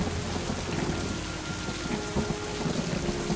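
Steady rain pours down in the Mind Path to Thalamus video game, a dense continuous hiss with low thunder rumbling underneath throughout, fairly loud and with no voices.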